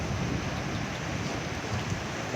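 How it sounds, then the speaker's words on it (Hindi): A heavy rainstorm with wind in Saudi Arabia makes a dense, steady hiss of pouring rain, a constant broadband wash with a low rumble beneath, with no voices. "ये देखो आंधी"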